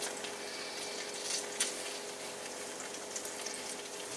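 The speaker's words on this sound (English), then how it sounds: "Oh, we got some sizzle there already" Bologna slices frying in a pan on a stove, giving a steady, close sizzle with a broad crackling hiss and a few sharper pops, heard alone with no talking.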